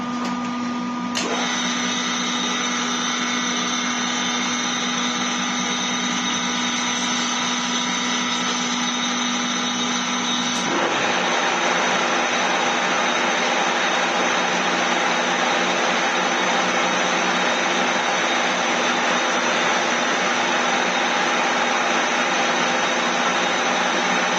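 A metalworking machine, probably a lathe, cuts a 35 mm metal bushing during drum repair. A steady whining hum with tonal overtones changes partway through into a broader, harsher grinding roar, loud and continuous with no talk.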